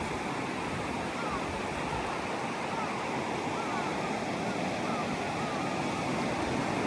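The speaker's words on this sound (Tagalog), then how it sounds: "ayan ang dagat" Sea waves at a Japanese beach, a loud continuous roar of surf and rushing water with some wind buffeting the microphone, filling the whole stretch without pause.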